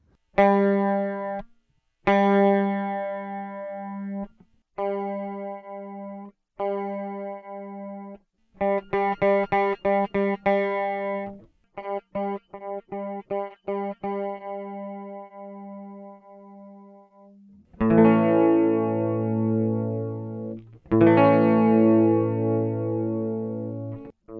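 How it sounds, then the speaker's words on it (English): An electric guitar runs through a detune pedal, first in mono and then in stereo, playing distinct clean notes, quick repeated plucks and sustained chords with a thick, doubled, chorus-like shimmer. The notes come close and fairly loud, with brief gaps between phrases. "we're just going to see how the detune sounds in mono versus in stereo"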